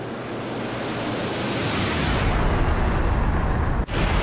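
MiG-15bis jet flying past in a combat flight simulator, a steady heavy roar with deep bass that builds, then a falling whistle as the aircraft moves away, broken by a short abrupt cut near the end.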